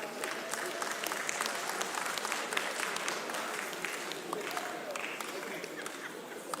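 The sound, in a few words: audience applause at comedy show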